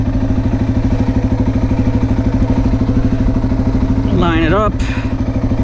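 A motorcycle in first gear rumbles steadily at close range as it is ridden up a ramp into a pickup truck, its throbbing engine constant throughout while someone speaks briefly over it and a short rising note comes near the end.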